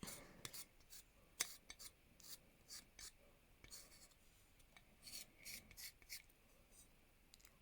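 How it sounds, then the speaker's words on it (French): Dry ochre pastel stick scraped in short rasping strokes, close and quiet, irregular bursts of gritty scratching with soft breathy sounds between. "je viens prendre ma pastille sec d'ocre. Je viens la gratter un petit peu."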